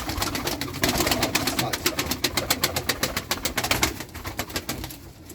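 Pigeons, Turkish racing/playing breed, coo steadily in a close, crowded coop, their soft rolling calls overlapping, with rapid fluttering and scratchy rustling rising and fading throughout.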